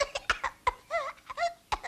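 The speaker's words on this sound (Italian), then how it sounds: "Povero bambino, ma senti tu che tosse." A child coughs repeatedly in short, rough bursts, some with a wheezy, squeaky pitch, close by and fairly quiet.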